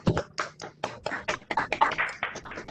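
Scattered claps and taps from several people over a video call, coming through in uneven bursts at moderate level for a few seconds.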